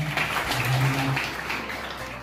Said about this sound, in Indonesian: kasih aplaus dulu buat Kang Nizar